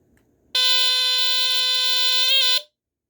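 A First Alert SA76RS smoke detector sounds with its cover removed: a single loud, piercing continuous alarm tone lasting about two seconds, then cutting off abruptly into silence.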